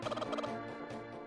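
A chicken in Zelda: A Link to the Past lets out a loud, warbling series of rapid clucks and squawks, heard briefly and alone with no talking.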